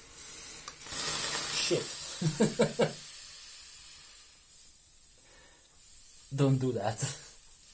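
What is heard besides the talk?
boiling hot water hissing while making coffee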